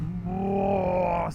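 A 240 hp, 167 kg superbike engine gives one short, loud, close tonal roar that swells and holds as the throttle is released, then cuts off abruptly.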